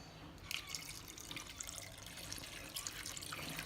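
Water runs into a cooking pot of mutton liver with salt, ginger-garlic paste and a bay leaf, a faint, steady pour and splash lasting a few seconds.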